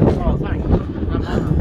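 Strong wind buffets the microphone on an exposed hilltop wild camp near Crowden Tower, a heavy low rumble with gusting swells throughout, while someone talks underneath.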